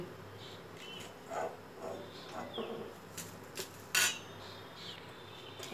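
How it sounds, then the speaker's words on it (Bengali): Fried curry leaves are lifted out of a pan of hot oil, with clear metal utensil clinks and scrapes against the pan over a faint background sizzle, a few louder knocks near the end. "কারি পাতাগুলো সব ভাজা হয়ে গেছে আমি তুলে নিচ্ছি"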